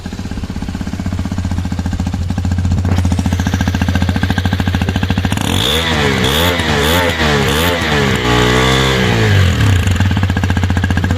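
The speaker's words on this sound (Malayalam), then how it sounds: "നമുക്കിനി ഇവൻ്റെ എക്സോസ്റ്റ് നോട്ടൊന്ന് കേട്ടേക്കാം." A Hero Xpulse 210 motorcycle exhaust thumps at a loud, close idle, then climbs through several rising and falling revs before settling back to a steady throb.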